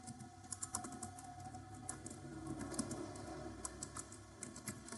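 Keys tap on a computer keyboard in quick, light clusters as a command is typed, faint and close over a soft background hum.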